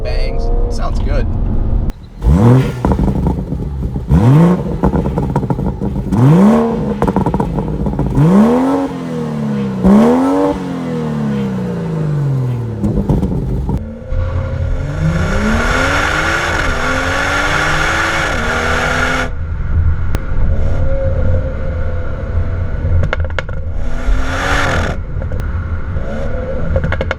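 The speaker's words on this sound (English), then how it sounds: "when you downshift from a higher RPM, especially down into 2nd and 3rd gear, you can hear the exhaust" A BMW 340i engine revs up repeatedly and drops as gears change, with rapid crackling pops from the exhaust on each downshift into 2nd and 3rd gear, loud and close.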